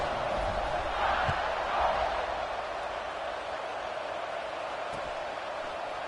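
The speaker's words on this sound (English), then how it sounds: "this crowd is buzzing after that last score" A stadium crowd in the College Football 26 video game keeps up a steady, even roar of buzzing voices throughout, with a slight swell near the start and no distinct words.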